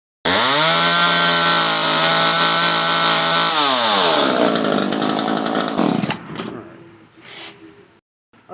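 An Echo CS-3000 chainsaw engine runs at a loud, steady high idle. It then drops in pitch and sputters down, with uneven revving bursts before cutting out near the end.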